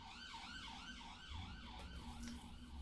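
An ambulance-style siren wails outside in a steady rising-and-falling cycle, faint and distant, over low traffic rumble.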